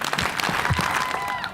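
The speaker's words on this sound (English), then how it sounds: "I say Pai Kalima, I only want to hear 3 claps." A crowd at an outdoor GMO rally on Maui claps in unison, a few sharp synchronized claps close and loud in quick succession.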